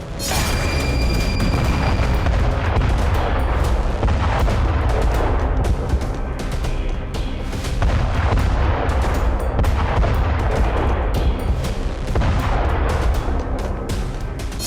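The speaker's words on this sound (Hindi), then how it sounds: "जोरदार धमाके के साथ ही दर्जनों इमारतें जमींदोज हो गईं" A massive FOAB bomb blast in Ukraine with buildings collapsing, heard as a continuous loud, rumbling roar of explosions and booms with crackling bursts, sustained and dense throughout.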